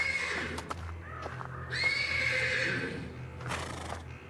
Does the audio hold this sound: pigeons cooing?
no